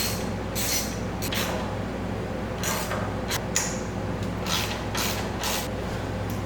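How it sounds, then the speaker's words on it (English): Wrench working 12 mm bolts on a Subaru turbo during an air-oil separator install, a series of close ratcheting clicks and creaks in short irregular bursts over a steady background hum. "We're going to take out this 12 millimeter bolt here, and then you got two 12 millimeter bolts here on your turbo."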